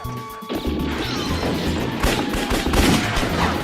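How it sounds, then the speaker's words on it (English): A loud, chaotic crash of crunching metal and scattered impacts fills the whole stretch, dense and continuous with repeated sharp bangs. "one that ends with the bad guys crashing their car"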